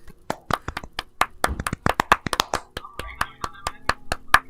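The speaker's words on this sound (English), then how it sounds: "everybody give a round of applause for Pekachow for being such an amazing guest" A few people clap for a podcast guest, sharp uneven hand claps close to the microphone, a scattered small group rather than a large crowd, with faint talk underneath.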